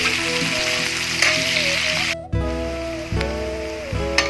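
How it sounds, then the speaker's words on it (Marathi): Onion sizzles and crackles steadily in hot oil in a pan, a close, continuous frying hiss with small pops and brief shifts as it is stirred. "बदामी रंगावर येईपर्यंत आपण छान परतून घेऊया"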